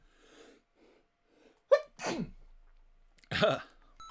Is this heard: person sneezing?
yes